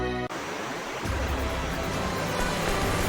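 A river flowing in the video game Star Ocean 3: Till the End of Time, a loud, continuous rushing wash of water that starts abruptly and holds steady throughout.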